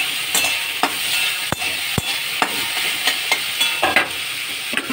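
Banana stem sizzles in a hot pan as it is sautéed with turmeric, cumin powder and sugar, a steady close frying hiss broken by sharp spatula scrapes and taps at irregular intervals.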